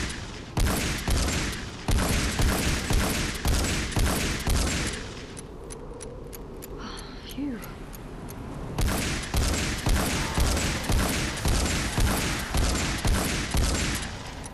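A legendary shotgun in the Fortnite video game fires in a fast, regular series of loud blasts. A pause about six seconds in carries quieter reload clicks and mechanical sounds, then the steady firing resumes.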